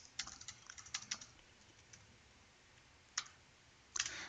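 Someone types a command on a computer keyboard, giving a quick run of light, close key clicks, then a pause and a few isolated taps, quiet with no talking.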